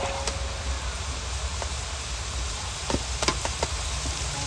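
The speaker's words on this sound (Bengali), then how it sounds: "দিয়ে পেঁয়াজটাকে ভাজবো। বেশি কড়া করে ভাজবো না।" Onions frying in oil in a pan for a Bengali meat curry with seasonal vegetables, a steady broadband sizzle with scattered crackles and a few sharp pops near the end, no talk.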